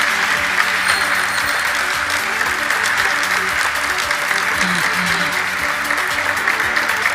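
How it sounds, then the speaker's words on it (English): Sustained audience applause at a stock exchange listing ceremony for Essen Speciality Films Limited, dense steady clapping from a large crowd filling the room at even loudness throughout. "let's have a huge round of applause for Essen Speciality Films Limited"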